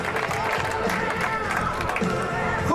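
Crowd applause and cheering on a hometown triathlon podium in Hardenberg, a steady, loud wash of clapping with voices mixed through it.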